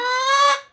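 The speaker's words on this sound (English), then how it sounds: "Ornery chicken." An ornery chicken gives a single loud, strained squawk held for most of a second, harmonic and slightly rising before it cuts off, with no talk around it.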